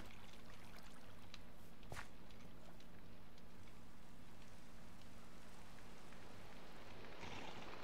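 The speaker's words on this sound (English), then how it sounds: "it looks like it's raining" Steady rainfall in Minecraft, a soft continuous hiss of drops with a brief sharper patter near the start, heard alone with no voices.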